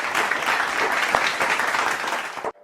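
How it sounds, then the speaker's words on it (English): Audience at a GoPals tenth anniversary music event applauds steadily, a dense wash of many hands clapping at moderate distance that cuts off abruptly at the end. "Gopals need a big round of applause."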